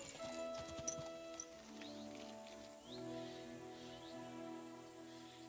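Horse hooves clip-clopping in the video game Kingdom Come Deliverance 2, a light, steady plodding rhythm on a road mixed with background ambience and faint animal calls, heard alone without talk.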